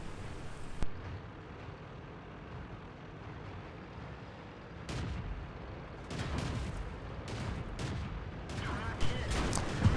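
Tank gun shots from an AMX 13 57 in a video game come as several sharp bursts, one early and then a cluster near the end, over a low rumbling engine bed. They are moderately loud and carry no speech.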